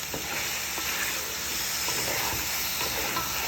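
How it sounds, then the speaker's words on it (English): Oil frying steadily in a pot, a continuous close sizzle with faint crackles throughout. "We still have that oil in the bottom there frying up nicely."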